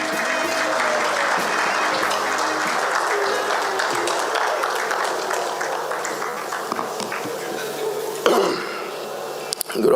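Sustained audience applause fills a lecture hall as a guest speaker takes the stage at a legacy and leadership lecture, a dense steady clatter of many hands that thins slightly toward the end.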